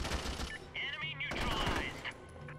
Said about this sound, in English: It's a lot of gunfire.